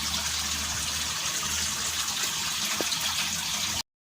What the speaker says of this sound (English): I'm guessing you are now hearing the water in the fish